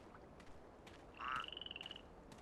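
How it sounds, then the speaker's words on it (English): A frog croaks in the Carnivores Dinosaur Hunt video game, a short rattling call pulsing about a dozen times in quick succession over quiet ambient wilderness, fairly faint and with no talk. "heard a frog"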